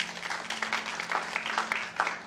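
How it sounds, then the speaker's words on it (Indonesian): A church congregation claps together in a short burst of dense, moderately distant applause lasting a couple of seconds. "Tepuk tangan buat Tuhan kita"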